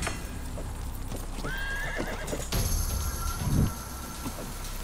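Horse in the Grim Legends video game lets out a rising whinny, then clopping hooves, in a dense game soundscape with steady background ambience and a louder stomp near the end.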